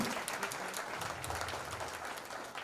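Audience applause at a live stage event, a dense, even wash of many hands clapping continuously at moderate distance, without talk.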